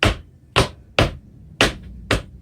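Five heavy, close caballito dance footwork stomps on a wooden floor in an irregular rhythm, each ringing briefly, with no voices.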